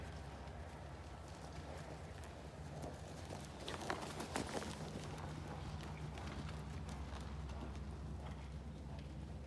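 Horse hooves clip-clop at a walk during a dressage training test at an outdoor show, a steady, soft rhythm against constant background noise, with a few sharper hoof strikes midway.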